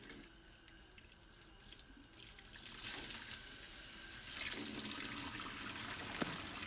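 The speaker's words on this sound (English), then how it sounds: "There is faucet." Faucet water running in the Vertigo video game, a steady hiss that swells louder partway through and keeps pouring to the end, alone without speech.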